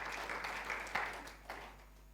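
Congregation applause during a church service, faint diffuse clapping in a reverberant hall over a low steady hum, fading after a couple of seconds.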